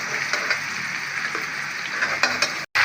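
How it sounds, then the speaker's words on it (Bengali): Vegetables frying in a pan with salt and turmeric as they are stirred together, giving a steady close sizzle with light scraping stir strokes and small clicks, with no talk. "হলুদ দেওয়ার পরে এটাকে একসাথে নেড়ে চেড়ে ভালোভাবে ভেজে নেব।"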